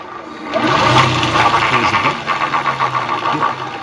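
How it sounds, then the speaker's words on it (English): Electric motor of a Suzuki quad bike EV conversion turning over, a steady close whirring drone with a low mechanical hum and faint rhythmic ticking throughout, no speech. "You can hear the motor turning over and you can see the crankshaft spinning in there"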